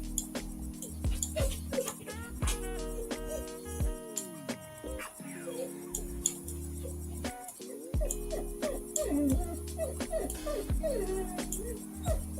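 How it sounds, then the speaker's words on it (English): A puppy whimpers and yips in high, wavering whines and short yelps over a steady low hum, fairly close, with a brief spoken exclamation partway through. "oh my god, puppy."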